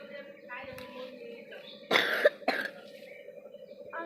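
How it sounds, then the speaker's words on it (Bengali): A person coughs in two short bursts, a strong one near the middle followed by a briefer second, heard fairly close over a low steady background hum in a home setting. "কাশি হচ্ছে"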